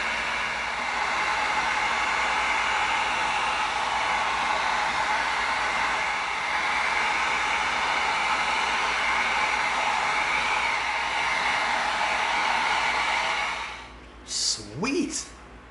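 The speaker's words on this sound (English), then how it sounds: "now we're going to bring our heat gun in and we're going to seal this whole thing up" A heat gun blows steadily while sealing an EVA foam prop gun, a loud continuous airy roar that holds for about thirteen seconds before cutting off, followed by a few brief breathy sounds.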